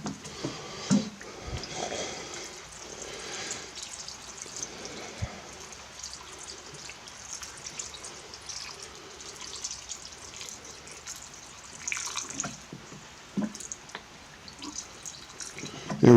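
Water trickles and drips into a rock tumbler barrel holding grit, a faint irregular splashing and pouring sound heard up close over several seconds.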